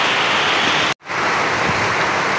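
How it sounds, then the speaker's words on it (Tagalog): Heavy rain pours at night, a dense steady roar broken by one brief drop-out before continuing. "Kasi lakas ng ulan."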